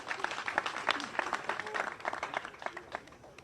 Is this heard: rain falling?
no